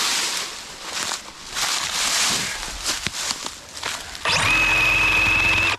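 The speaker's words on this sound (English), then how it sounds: "we're using this Sawzall on these little saplings" Sawzall reciprocating saw cutting small saplings while clearing raw land for a homestead: rustling and scraping at first, then a loud steady motor whine close by for the last second and a half.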